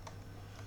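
Two quick keystrokes on a computer keyboard while an IP address is entered during a web server setup, close and crisp over a steady low hum.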